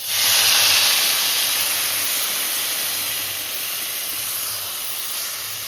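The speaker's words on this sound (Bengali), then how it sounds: "এবার জল দিচ্ছি" Water is poured into a hot wok of fried vegetables, seasoned with salt and turmeric, for a drumstick and fish curry, bursting into a loud steady hiss of steam that eases slightly but keeps going, no voices.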